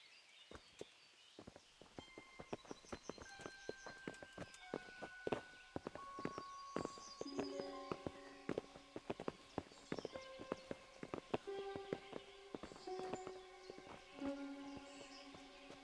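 Horse hooves clip-clop on the ground in the medieval role-playing game Kingdom Come: Deliverance, a steady walking rhythm of fairly faint hoofbeats under a soft musical score, with no talk.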